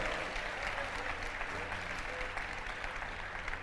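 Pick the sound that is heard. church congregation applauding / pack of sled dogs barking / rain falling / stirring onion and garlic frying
church congregation applauding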